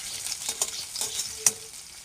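Onions fry in hot oil seasoned with whole cumin and nigella seeds, a close crackling sizzle punctuated by a few sharp stirring scrapes; no speech.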